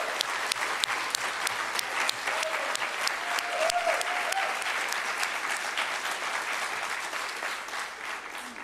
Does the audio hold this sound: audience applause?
yes